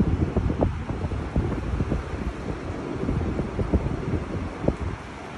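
A large Sumika 9000 evaporative air cooler, about 1.5 m tall on wheels, runs with a steady broadband fan whoosh and soft clattering texture, fairly loud and continuous with no talk.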